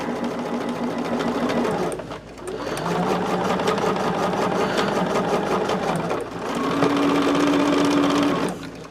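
A sewing machine stitches the final quilt block of a row onto the quilt, running in steady loud bursts with a couple of brief pauses.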